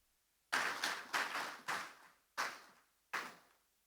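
Bursts of audience applause in a hall at a social initiatives launch event, five short rounds of clapping each rising sharply and fading, loud and close with no talk over them.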